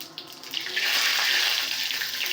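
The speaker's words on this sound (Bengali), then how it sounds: "আমি ওই গরম জলটা আবার দিয়ে দিচ্ছি।" Hot water pours into a pot of cooking dal, a steady splashing gush that starts after a small clunk and keeps running at a close, even level with no talking.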